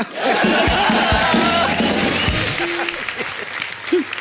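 A studio audience at The Kapil Sharma Show comedy taping breaks into loud, sustained clapping mixed with cheers and scattered voices, holding steady for several seconds.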